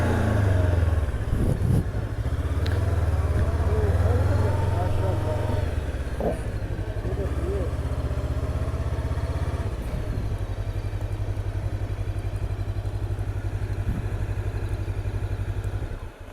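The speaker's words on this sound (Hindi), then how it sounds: "बाइक तेज चलाओ ना, ठंडी हवाएं ठंड लगती है।" Motorcycle engine drones steadily through a ride on a forest road between Muzaffarabad and Abbottabad, loud and continuous with wind rush, while people talk over it.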